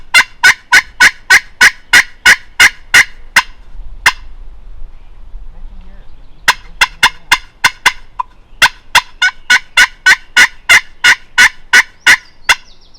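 Two wild turkeys gobble during a Kansas turkey hunt: loud, rapid rattling gobbles come in long bursts, a short quiet gap between them, with faint low murmurs in the background.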